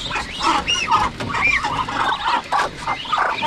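Farm ducks raised in the province, quacking and calling repeatedly at close range in a busy, overlapping chorus with uneven rhythm.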